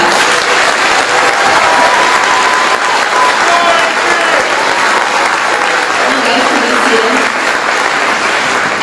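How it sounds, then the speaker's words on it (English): Audience applause at a high school graduation ceremony: loud, dense, continuous clapping from a large crowd that holds steady for the whole stretch, with faint voices mixed underneath. "Please give them a round of applause."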